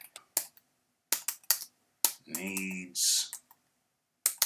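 Brief bursts of clicky keystrokes on a computer keyboard come in short clusters separated by pauses, with a spoken word and a humming voice breaking in midway.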